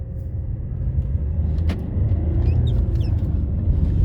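An Alfa Romeo engine hums steadily from inside the cabin while driving in economy mode, a low continuous rumble with faint road noise and a brief squeak.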